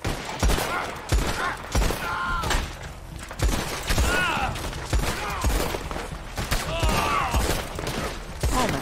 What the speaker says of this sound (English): I'm getting shot so much.